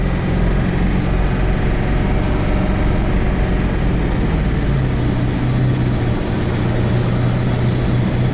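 A Ford 7.3 Powerstroke diesel engine at half throttle produces a loud, dense, continuous roar with a deep rumbling low end, close and steady for the whole stretch.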